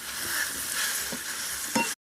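Fried potatoes and eggplant being stirred into spices with turmeric in a pan, giving a close, continuous sizzle with a few soft scraping stirs and a sharper clack near the end before it cuts off.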